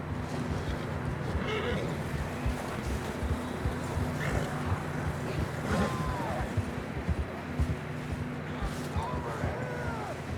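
Horses gallop and neigh in the rugged terrain of Red Dead Redemption 2, with steady hoofbeats, occasional whinnies and a constant rushing background, while voices speak over the ride.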